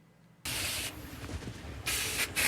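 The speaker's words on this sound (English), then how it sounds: "And all Ron does is spray this" Aerosol can sprays a product in a burst of bright hiss, two more short blasts follow, close and loud after brief quiet.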